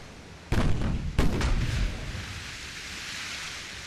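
Heavy naval guns from a battleship in Ultimate Admiral Dreadnoughts fire two loud booming salvos about half a second apart, each rolling into a long rumbling decay that fades under faint background noise.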